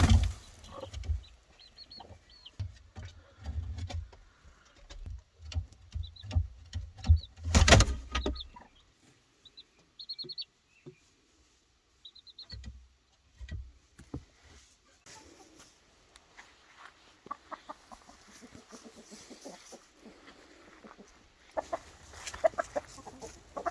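Chickens cluck on and off at close range, with scattered bursts of clucking and a few louder squawks over quiet barnyard background.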